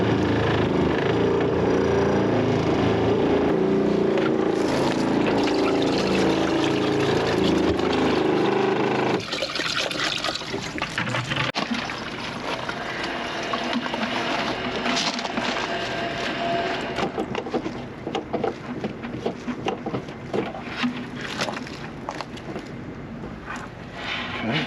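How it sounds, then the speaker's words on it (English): An RV's onboard water pump runs as a valve is opened and shut off when it is closed during winterizing: a steady, loud mechanical hum with rushing water shifts abruptly partway through, followed by continued trickling and flow noise. "she opens it, the pump turns on, she closes the valve, it turns off"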